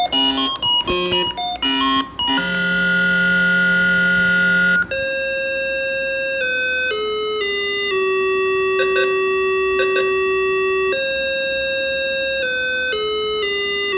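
Video game music and beeps from a Tandy 1000 EX computer, square-wave chip tones starting with short choppy blips then moving into a held melody of stepping pure notes, loud and clean with no talk.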